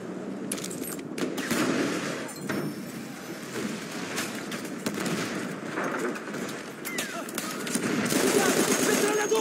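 Rapid video game gunfire fills the clip in dense automatic bursts and scattered shots, mixed with game noise and a voice speaking over it.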